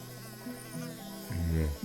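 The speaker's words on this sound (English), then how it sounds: "how do I get past the bees?" Insect buzzing from a swarm of bees in the Return to Monkey Island adventure game, a steady droning hum that swells louder toward the end, with no talk over it.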